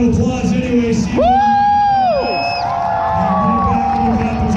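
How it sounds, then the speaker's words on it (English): Crowd at a monster truck show whooping and cheering, a loud rising yell riding over steady arena roar and scattered shouts. "Let's give TJ a big round of applause anyway."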